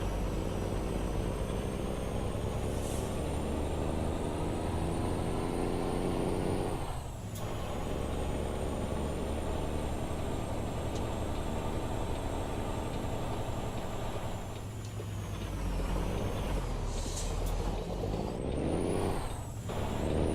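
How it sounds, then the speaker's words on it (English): An 18-speed semi truck in American Truck Simulator drones with a loud, steady engine rumble, broken by sharp hissing air-brake releases at about 7 and 15 seconds and again near 19 seconds, with no talk. "I have not done an audio test because this truck is super loud."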